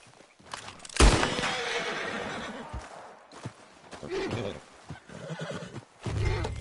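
A horse gives a loud, close whinny that trails off, followed by snorts, shuffling and hoof movement, with further softer neighing bursts later.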